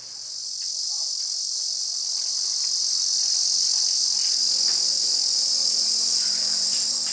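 Dense, shrill chirping of crickets sold by a street vendor in China, a constant high buzzing chorus that swells in and holds steady at close range.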